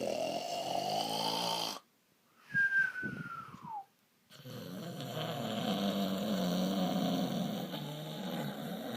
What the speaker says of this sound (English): Do you have to snore like that?